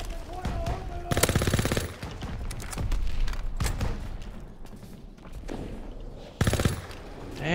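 Rapid handgun fire rings out in a hardcore team deathmatch of Call of Duty WWII, with bursts of sharp, loud shots repeating over constant battlefield noise and distant gunfire.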